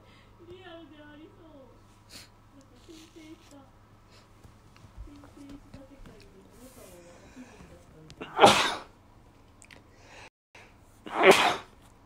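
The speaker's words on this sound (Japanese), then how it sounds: "ほんとくしゃみ止まんない" Two sharp, loud sneezes about three seconds apart, from a person playing Dragon Quest VI, break through quieter speech and background noise.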